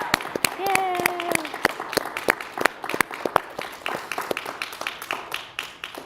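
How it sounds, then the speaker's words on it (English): Scattered claps from a small group at a graduation celebration, sharp and close, with a voice cheering briefly at the start before the clapping thins out irregularly. "will you just give a round of applause to these beautiful people?"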